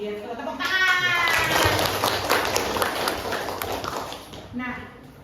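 A classroom group at SMAN 1 Pangandaran claps their hands in a dense, lively burst that lasts several seconds, with voices mixed in, before it tapers off.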